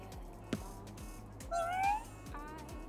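A cat meows twice in Ghostwire: Tokyo, short and fairly clear over a quiet, rhythmic ambient backdrop, with a faint click just before.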